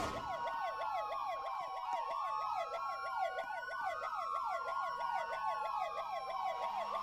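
A police siren in the Roblox game ER:LC wails, sweeping rapidly up and down, steady and loud, with layered electronic tones and no talking.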